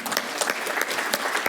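Audience applause during a keynote address by a senator, a brief burst of dense clapping from a crowd with no talk over it.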